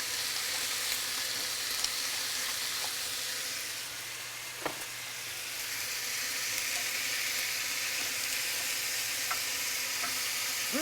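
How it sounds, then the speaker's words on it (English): Tomatoes with salt and pepper sizzle loudly and steadily in a hot pan, a dense continuous frying hiss with a few small pops and stirring taps throughout. "I just want to cook these a couple of minutes till they kind of collapse just a little bit"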